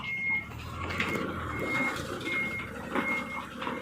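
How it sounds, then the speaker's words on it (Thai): A sand delivery truck backs up at a building site, its reversing alarm beeping in a steady repeated rhythm over a low diesel rumble and general site noise. "จะให้รถทรายเข้าก่อนนะครับนี่"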